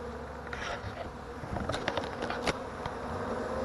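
Thousands of honey bees from a package buzz steadily while being installed into a hive outdoors, a dense continuous insect drone with a few louder passes of individual bees flying close.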